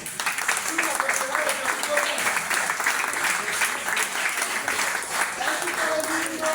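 Loud, continuous audience applause at a kung fu performance, dense clapping filling the whole stretch with a voice audible beneath it.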